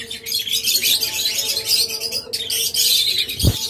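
Pet lovebirds, cockatiels and budgerigars kept in pairs for sale chirp and tweet nearby in a busy, overlapping high-pitched chorus, ending with a brief sharp knock.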